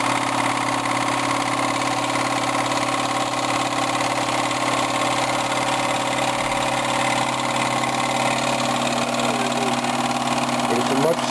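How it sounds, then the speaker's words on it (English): A 1950s Wilesco D20 toy steam engine, old and in good condition, runs gently with a steady, even mechanical hum that holds level and close throughout. "it's a much smoother running engine"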